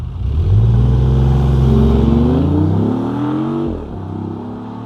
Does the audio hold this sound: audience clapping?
no